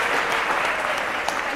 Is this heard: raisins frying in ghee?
no